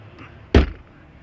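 A truck's sleeper-cab emergency door gives a single sharp latch-and-swing thump partway through, up close, with quiet cab ambience before and after.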